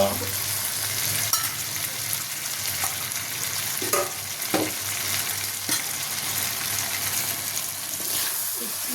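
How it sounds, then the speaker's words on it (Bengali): Crab curry with red mustard paste sizzles steadily in a pan as it is stirred, giving a continuous frying hiss with occasional scrapes and clinks from the spoon, close by. "নেড়ে চেড়ে নেওয়া হচ্ছে।"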